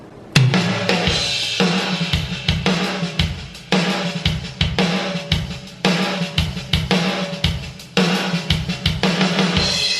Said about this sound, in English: I've already made a rhythm track for it.